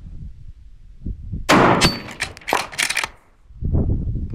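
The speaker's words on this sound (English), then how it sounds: "You need to shoot when it's up in the air." Centerfire rifle shots striking a steel spinner target outdoors, a sharp loud crack followed by several quick metallic clangs and ringing over about a second and a half, then quieter rustle.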